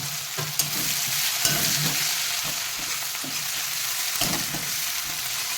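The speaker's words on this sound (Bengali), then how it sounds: "তেলের উপরে ভালো করে লাল করে বাদাম করে ভেজে নেবো" Dried chilli, cumin seeds, garlic and onion fry in hot oil, giving a constant bright sizzle with occasional scrapes and clicks of a spatula stirring the pan.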